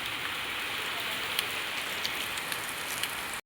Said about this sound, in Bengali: দেখো সাংঘাতিক বৃষ্টি হচ্ছে।